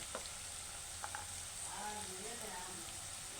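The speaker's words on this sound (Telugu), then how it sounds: "ఇవి కొంచెం బ్రౌన్ కలర్ వచ్చే వరకు ఇవి ఫ్రై చేస్తాను." Potatoes frying in a pan until browned give a steady, quiet sizzle throughout, with a few faint clicks and a soft murmur of background activity.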